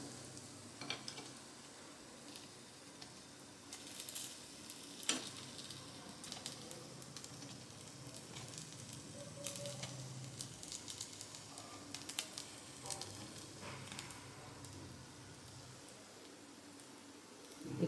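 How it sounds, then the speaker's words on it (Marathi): Appe roasting in a pan over a low gas flame give a soft, steady sizzle and faint crackle with scattered light clicks, fairly quiet and continuous. "थोडंसं बारीक गॅसवरती शेकायचं"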